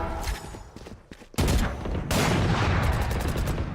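Rapid gunfire in the video game Valorant during a VCT Americas match, bursts of close, loud shots that build into a dense volley, with faint voices underneath at the start.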